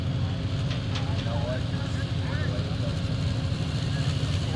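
Pro Stock tractor roaring down the track at a night tractor pull event, a dense steady engine drone filling the whole stretch, loud and continuous with crowd and announcer chatter faintly mixed in.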